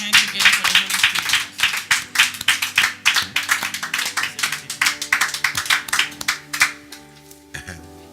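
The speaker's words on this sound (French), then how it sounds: "we put our hands together for the Holy Spirit?" A church congregation claps hands together in praise of the Holy Spirit, many loud, rhythmic hand claps close by, stopping after about seven seconds with one last faint clap.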